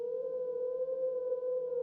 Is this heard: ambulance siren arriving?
yes